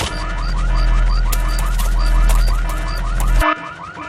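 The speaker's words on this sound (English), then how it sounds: "Well, who set off the alarm, Floyd?" A car alarm in the Full Throttle Remastered video game blares with a steady, rapidly repeating warbling siren over a low engine-like hum, loud and close, cutting off abruptly near the end into quieter background noise.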